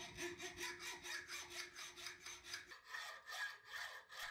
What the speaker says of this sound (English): Then we'll take the hacksaw for a spin.